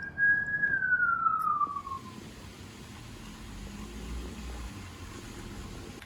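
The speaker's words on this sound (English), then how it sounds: "Sirens." A single siren wails in the distance, its tone sliding downward before fading into a low outdoor rumble.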